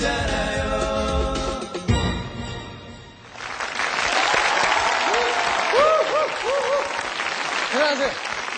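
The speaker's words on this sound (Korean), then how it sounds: "다시 한번 박수 보내주십시오" Music fades out, then a studio audience breaks into sustained applause and cheering after a performance, with high whoops and whistles rising over the clapping.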